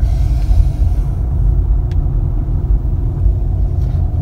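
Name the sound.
car accelerating in second gear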